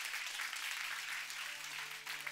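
A church congregation gives a steady round of hand clapping that fills the space for a couple of seconds, dense and even, with a faint voice or tone lingering underneath.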